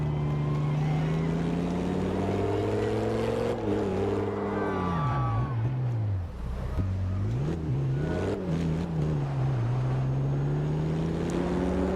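A deep, steady supercharged car engine drone in a video game that rises and falls in pitch as it revs, with a faint whine on top, loud and continuous throughout.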